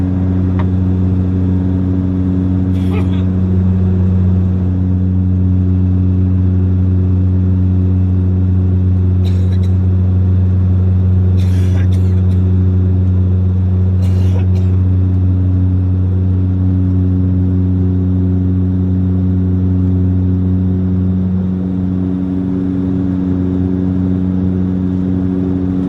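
Saab 340 turboprop engines and propellers on landing approach, a loud steady droning rumble with strong sustained tones that hold throughout, with a few faint clicks on top.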